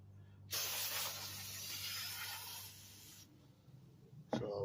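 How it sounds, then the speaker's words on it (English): A can of brake parts cleaner sprays onto a greasy power steering line in one steady, hissing blast lasting about three seconds, fairly close but not loud, followed by a brief second spurt. "we're gonna get some brake port cleaner and we're gonna try to spray that down"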